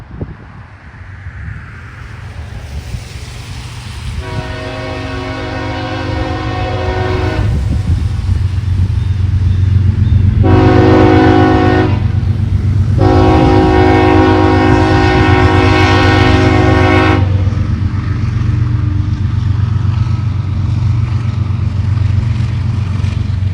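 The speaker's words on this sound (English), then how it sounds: "the train was revealed to be westbound mixed freight train M246 on his daily journey between Parsons Yard and Columbus" CSX westbound mixed freight train M246 on the Columbus line at the Avery Road crossing in central Ohio, its horn sounding in two long blasts over a steady low rumble of cars rolling past close by, no talk.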